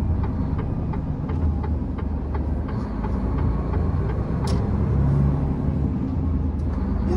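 A moving truck cab hums with a low, steady engine throb and road rumble, a continuous droning rumble with faint rattles and no talking.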